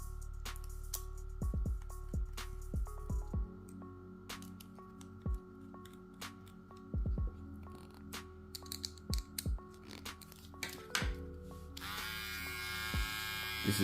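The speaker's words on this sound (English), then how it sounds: "I don't recommend this trimmer." A Wmark NG 311 hair trimmer buzzes steadily with a loud electric hum, switched on and off several times with sharp clicks between runs, heard close up and alone.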